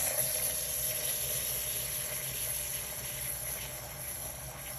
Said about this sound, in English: they have a cold foam button. So you'll see it just start to like froth up.